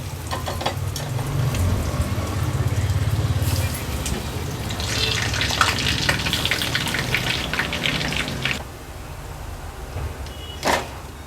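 Crab meat lollipops deep frying in hot oil, a steady close sizzle and bubble that fades near the end, with a brief clatter just after.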